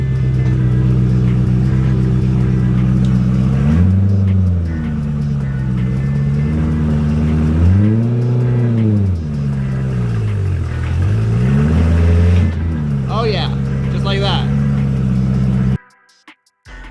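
A salvage BMW E92 M3 engine hums steadily close by while reversing, revving up and down several times in rising and falling swells before cutting off abruptly.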